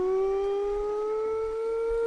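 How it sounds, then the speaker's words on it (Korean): A military base siren holds one steady, sustained wail with clear overtones for the whole stretch, loud and unbroken, with no voices. "사이렌이 들리는 거예요."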